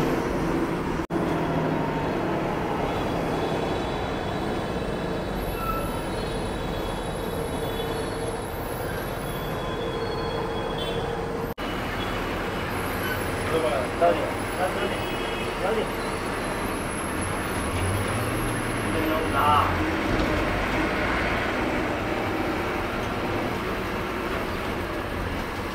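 Steady rumbling drone of a fully sleeper ST bus travelling on the road between Bhayander and Kolhapur, with continuous engine and road noise, occasional rattles and a faint high whine, while people talk over it.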